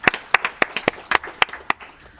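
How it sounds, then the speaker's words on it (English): Audience applauding at a city council meeting, a short burst of scattered, distinct hand claps from a small group, fairly close and tapering off within a couple of seconds. "We're going to clap for him?"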